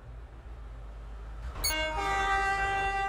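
A train in the Roblox game Stepford County Railway rumbles low and steady, then a loud, sustained horn blast sounds about halfway through and holds to the end, close and clear.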